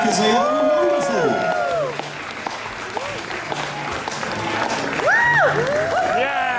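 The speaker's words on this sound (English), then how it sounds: "Please cheer for all of your favorites and please cheer for everybody else because they are wonderful." At a steampunk convention fashion show, an audience applauds and cheers contestants with steady clapping and scattered whoops, while an announcer talks over the crowd noise.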